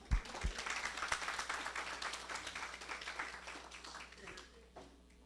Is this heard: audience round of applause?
yes